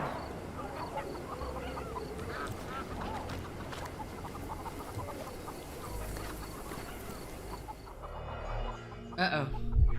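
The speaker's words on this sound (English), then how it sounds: "I can hear the chickens off in the distance, and it's like, okay, can you guys stop clacking, please?" Chickens cluck in the distance in a Sherlock Holmes Chapter One game scene, faint continuous clucking under outdoor ambience, with a few louder thumps near the end.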